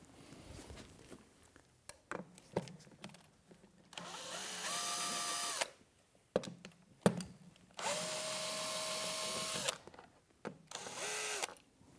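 A power drill retightens a bolt on a Contrology Reformer bracket in a garage, whirring in several separate bursts of one to two seconds with brief quiet clicks and handling sounds between them.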